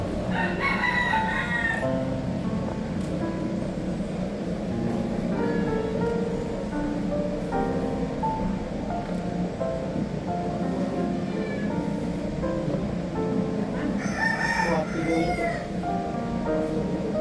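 Live chickens at an indoor market, with a rooster crowing loudly near the start and again near the end over a steady bustle of clucking, market chatter and someone talking.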